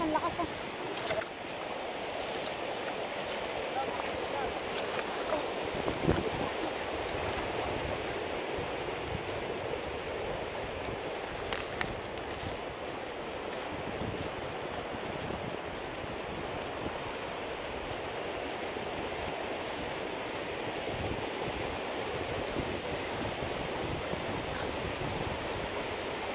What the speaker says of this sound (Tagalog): malakas pala alon dito